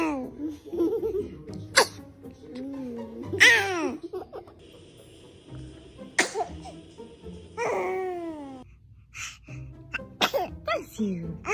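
A baby lets out several small sneezes amid giggles, babbling and laughter, with voices chattering around the bursts.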